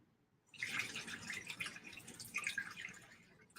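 Dyed yarn rinsed under running tap water: a steady, fairly quiet stream of splashing and dripping that starts after a brief pause and continues to the end, with no talking.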